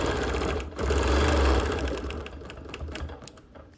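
Sewing machine quilting a sampler block, a quick, fairly close run of rapid mechanical stitching lasting a few seconds.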